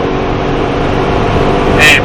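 Supercar engine pulling hard after an upshift on a Las Vegas track, a loud sustained roar with a brief higher burst near the end.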